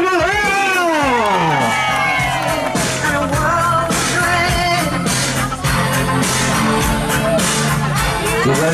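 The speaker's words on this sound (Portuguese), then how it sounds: "palmas pra galera!" A crowd at a lively family homage in Vila Formosa cheers, yells and whoops loudly, with whistle-like rising and falling calls and a dense wall of excited voices throughout.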